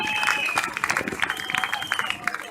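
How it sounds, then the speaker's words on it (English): Crowd applause and cheering break out at an outdoor Pride event in Eastbourne, a dense wash of clapping with a few whoops rising above it, loud and close throughout. "Can we give them a big round of applause"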